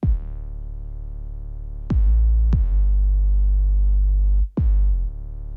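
Layered distorted and clean 808 bass in FL Studio: sustained deep booming notes with a gritty harmonic edge, three or four long hits restarting in sequence, loud and alone.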